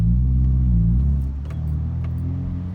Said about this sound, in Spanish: coméntenme cómo se escucha el carro